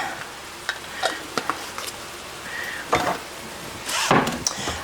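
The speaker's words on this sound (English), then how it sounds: "I'm going to stir it up. Get that broth going." A spoon scrapes and clinks against a pot while broth is stirred, with scattered sharp taps, soft sloshing and a faint sizzle, fairly close and without any talking.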